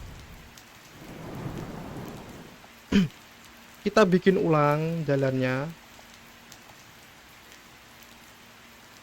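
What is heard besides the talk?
rain and thunder in the video game TheoTown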